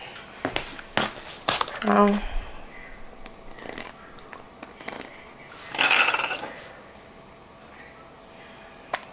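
Scissors snip and tear at the fabric of a hoodie in short, crisp cuts with rustling cloth in between, fairly close and quiet, while a voice talks intermittently.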